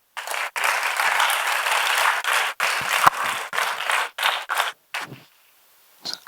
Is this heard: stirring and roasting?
no